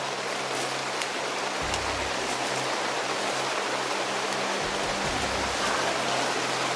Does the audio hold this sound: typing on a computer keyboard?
no